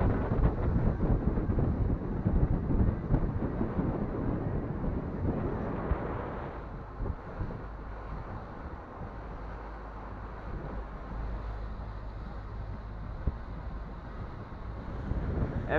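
Steady wind roars over the microphone aboard a motor yacht cruising at sea off the coast between Alanya and Gazipaşa. The rush is loud and continuous, easing slightly partway through, and there is no talk.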